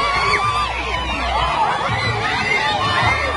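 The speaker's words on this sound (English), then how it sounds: "an even bigger cheer from the crowd when they realised that Alfie Days had arrived on the red carpet" A crowd of fans cheers and whoops at a red carpet arrival, a steady wash of shouts and excited screams with children's voices mixed in, sustained and fairly close throughout.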